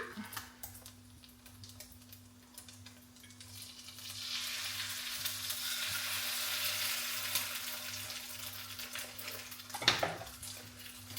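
Steady frying sizzle of croissant perdu in a pan swells in after a quiet start, a broad hiss near the mic, with a brief clatter of a pan near the end.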